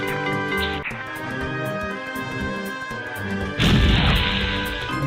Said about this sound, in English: Nothing like a good explosion to brighten up your day.